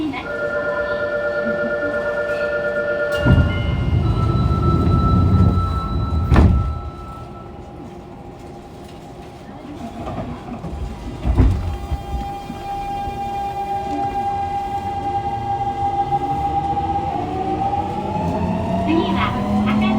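Fukuoka City Subway 2000 series set 23 under manual driving, with a late Hitachi GTO-VVVF inverter making abnormal noise, runs with a loud continuous rumble and rising and falling tonal inverter whines, broken by heavy thumps near the start and middle.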